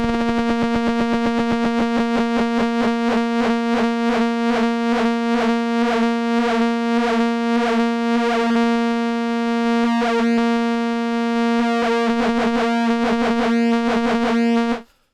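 A Dave Smith Instruments Prophet 08 synthesizer holds a steady buzzy tone while LFO modulation chops it into a rapid pulsing pattern whose rate speeds up and slows across the passage, loud and unbroken until it stops abruptly.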